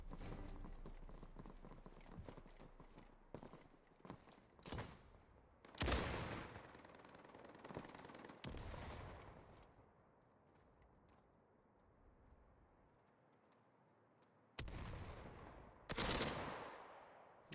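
Gunfire in a competitive tactical shooter match on the Derailed map, a fast mix of rifle bursts and sharp shots at moderate level with quieter ambient stretches between volleys and louder bursts near the end.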